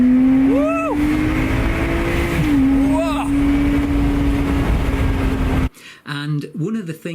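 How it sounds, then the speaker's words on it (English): A loud Lotus Exige S sports car engine revs up, its pitch rising and dipping through gear changes, then cuts off as a voice begins speaking. "This car really does make an awesome noise from the sound of the engine."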